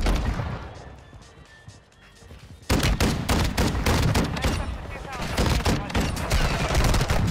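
Broadside shotgun blasts in Warzone 2, fired at campers on a rooftop. A quieter stretch with faint distant shots gives way to a loud, rapid string of booming shots and impacts, close and dense, mixed with game noise.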